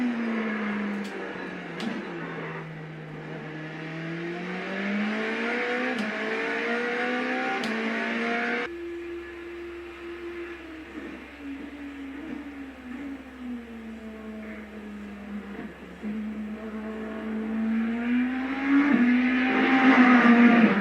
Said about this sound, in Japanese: 最後にポルシェ911の GT3 カップカーです